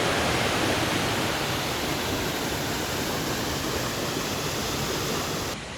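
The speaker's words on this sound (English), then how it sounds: "There we go, that was the falls from above." Aira Falls in the Lake District roars as a loud, steady broadband rush of falling water heard from above, unbroken and with no voices.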